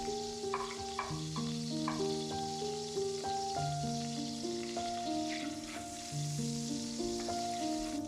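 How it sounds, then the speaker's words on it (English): Sliced garlic fries in hot oil for Goan pork balchao, a soft continuous sizzle under steady background music, no talking. "When the oil is hot, fry the sliced garlic till it starts turning brown"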